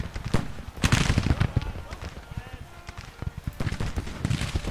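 Massed infantry rifle volleys from Civil War troops in Grand Tactician: The Civil War, a ragged series of sharp cracks rising and falling over a steady battlefield din, with a voice talking over the shooting.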